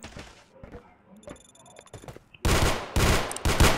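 Rapid bursts of gunfire shooting at zombies ring out loud and close after a stretch of quieter rustling and movement, several sharp volleys stacking into sustained automatic fire.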